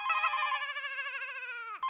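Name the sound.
telephone ringing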